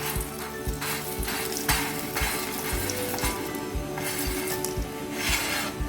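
Gund, an edible gum, fries in hot ghee with a constant crackling sizzle, while a metal spoon clinks against the pan at a steady, repeating rhythm, close and clear.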